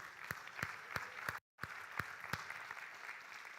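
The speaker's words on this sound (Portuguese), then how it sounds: "Quem pode aplaudi-lo aí?" Church congregation applauding at a conference service, a steady wash of clapping with a few louder individual claps standing out, briefly cut to silence midway before resuming.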